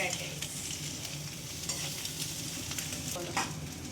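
Paneer egg fried rice frying and being stirred in a pan, a steady close sizzle with scraping stir strokes running continuously throughout.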